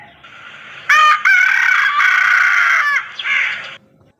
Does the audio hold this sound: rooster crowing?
yes